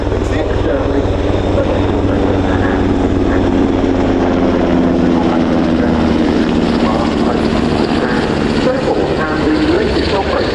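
An NH90 transport helicopter flies at the RIAT 2025 airshow, a loud, continuous rotor and turbine drone with a slowly shifting pitch, and commentary partly heard beneath it.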